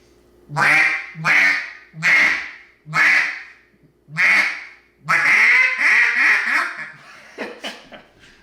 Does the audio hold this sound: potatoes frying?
no